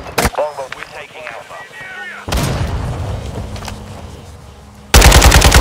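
AK47 fire in a Call of Duty MW2 multiplayer match on the Shoothouse map, loud bursts of automatic gunfire that open and close the stretch, with game radio voice lines and heavy battle noise between them.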